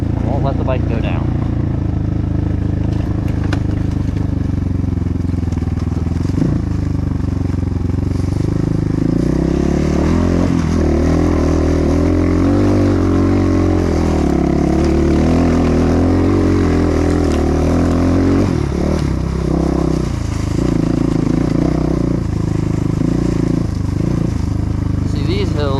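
A Kayo K4 250 dirt bike engine drones and revs loudly up close while climbing hilly trails, the pitch rising and falling with throttle and gear changes, with a rider's voice talking over it at times.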